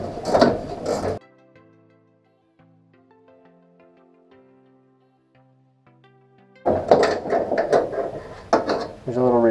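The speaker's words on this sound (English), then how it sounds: "I needed an 8mm end wrench, and I've got a ratcheting end wrench, which I think will help quite a bit." A ratcheting 8mm end wrench ticks in a slow series of small metallic clicks while it loosens a Datsun 280Z inner door handle, quiet and close, with talking before and after the clicking.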